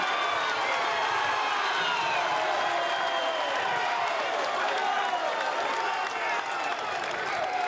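Crowd at an NCAA Division I men's tennis team final between Wake Forest and TCU, a steady wash of cheering and applause holding throughout with no break, with faint voices mixed in.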